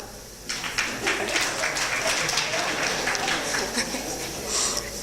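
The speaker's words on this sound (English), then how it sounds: "you want to clap?" An audience at a Rotaract club event breaks into dense, sustained applause that starts abruptly and stays steady, with some talk blended into the clapping.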